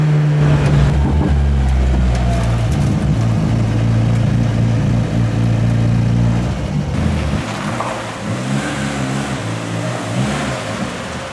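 A Peugeot 306 Turbo engine pulls hard under acceleration, a loud steady drone rising in pitch, then easing off and shifting to a lower, rougher tone near the end.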